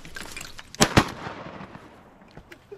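Two sharp shotgun blasts ring out in quick succession during a duck hunt on a Mississippi River mud flat, loud and close, then fading into faint outdoor background with a few small pops.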